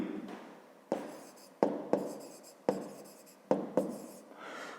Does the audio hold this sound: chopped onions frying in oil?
no